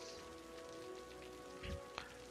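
Soft, steady rain hiss in the city-building game Cities: Skylines, faint and continuous, with a low thump and a brief click near the end.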